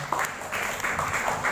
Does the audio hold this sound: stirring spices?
no